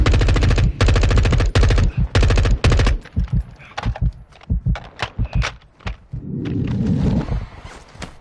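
Gunfire in the game Warzone 2.0: loud, sustained automatic bursts up close give way to scattered, sharper single shots and short volleys, with a brief rumbling stretch near the end.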